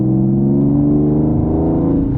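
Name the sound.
Nissan 370z with Motordyne Shockwave exhaust, cabin noise while driving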